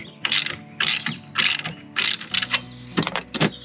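A hand ratchet tightens a half-inch nut on a steel mounting bracket of a camper van. Quick bursts of rapid clicking repeat in short strokes, close and loud, with no talking.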